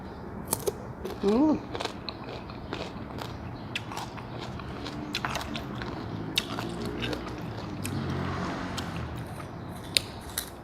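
Crisp, crunchy bites and chewing of green mango close to the mic, a series of sharp crackles spread across the clip with quiet rustling between.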